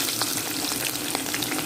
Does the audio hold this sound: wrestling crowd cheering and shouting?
no